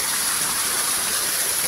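Steady rushing water flowing hard along a barangay channel in Misamis Occidental, a loud, unbroken wash of gushing noise close by with no pauses or voices.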